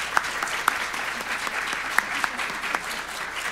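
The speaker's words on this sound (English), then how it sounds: "If we could give them a round of applause." Audience at a panel discussion about therapy dogs applauding steadily, a moderate crowd clapping with a few sharper individual claps standing out, continuous for several seconds.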